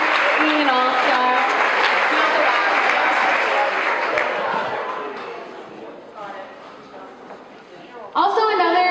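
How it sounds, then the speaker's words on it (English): An audience at a fitness challenge finale applauds for Nikki, the clapping loud and full at first, then thinning and fading, with a voice taking over at the end. "Let's also give Nikki a round of applause"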